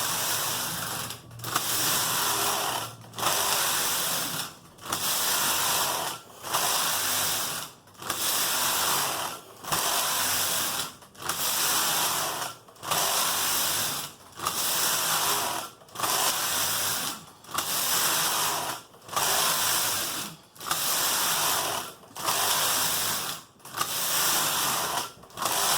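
A knitting machine works slip stitch rows for a bulky hat, the carriage sweeping back and forth in a steady rhythm of rasping, clattering passes, each about a second and a half long and separated by brief pauses, close and unbroken by speech.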